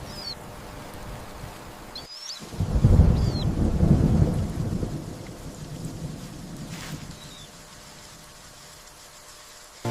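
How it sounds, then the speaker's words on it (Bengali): A cartoon storm strikes with a sudden loud thunderclap and rumble after a quiet stretch, then rain and wind continue at a lower level as the roll fades, with faint bird chirps early on. "একদিন হঠাৎ ঝড় এলো, প্রবল বাতাস, বৃষ্টি আর বজ্রপাত"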